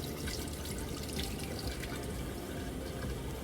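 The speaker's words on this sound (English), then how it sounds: "And then over here, the sink, you push, you got running water." Water from a sink tap in the lavatory of a Phenom 300 business jet in the X-Plane 11 flight simulator pours in a steady, close, continuous rush that fills the whole span.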